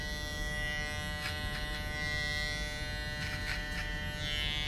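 A Caliber 22 Stinger electric hair edger buzzes steadily and close during a barber's haircut, a constant tonal hum with small shifts as the blades move over the hair.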